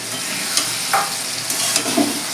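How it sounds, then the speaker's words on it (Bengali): Fried shrimp are stirred into water lilies cooking in their own released water, a soft sizzle under a few quick scraping stirs. "এবার আমি চিংড়ি ভাজা চিংড়ি মাছটা দিয়ে দিচ্ছি"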